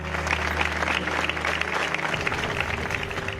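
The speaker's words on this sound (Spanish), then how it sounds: "Con este aplauso despiden a sus alumnos y compañeras que tenían toda una vida por delante" Sustained applause from a crowd, steady and dense clapping that fills the whole clip, with a low hum underneath at first.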